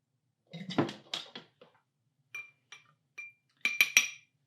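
Glass clinks lightly as mead is poured for tasting, with a cluster of handling knocks first and then several short, bright clinks near the end, all fairly close and with no talking.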